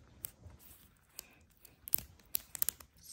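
Close, crisp irregular clicks and snaps come from a snap-together plastic fidget toy track as it is handled, scattered across a quiet background with a cluster of quick clicks toward the end.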